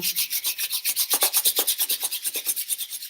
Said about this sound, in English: slowly rub the hands together